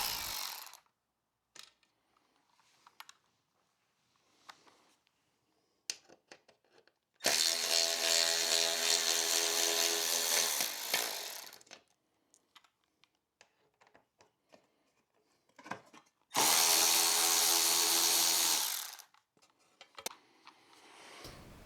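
Torx 25 screws on the aluminium side panels of a BMW R1300 GS are driven out in two loud, steady whirring bursts of a power driver, separated by quiet stretches of light clicks and handling taps.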